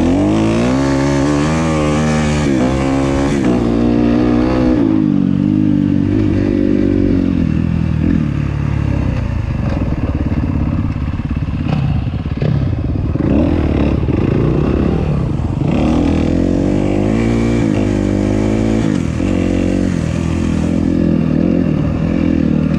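Kawasaki KX250F and Yamaha YZ250F dirt bikes ride Trail 33 at Omo Ranch, their engines droning loud and close throughout with rising and falling revs and some clatter over rough ground.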